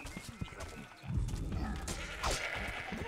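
Sheep bleating in the game Overlord, a few nasal bleats amid scuffling game combat noise, moderately close.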